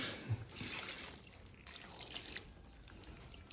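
Water trickles and splashes into a pot of beef curry in short uneven bursts, fairly faint and close, with no voices.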